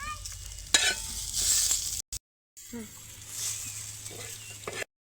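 Onion, chili and garlic roast in a pan for masala with a close, steady sizzle and stirring scrapes, broken by a brief silent gap midway.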